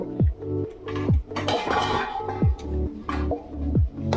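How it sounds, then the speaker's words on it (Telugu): Rice is added to a biryani pot, with repeated close metal clinks and scrapes of a utensil against the pot coming in short bursts and resonant ringing tones between them. "రైస్ మొత్తం వేసేసుకోవాలి."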